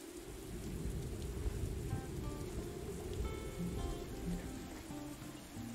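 Rain falls steadily in the outdoor woodland of the Morels: The Hunt game, a continuous dense patter with a low rumbling undertone, moderately quiet and unbroken throughout.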